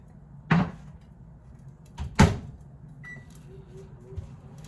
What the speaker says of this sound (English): all I'm going to do is throw it in the microwave